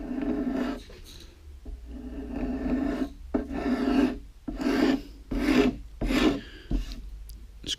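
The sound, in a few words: scraper blade scraping corners of wooden guitar neck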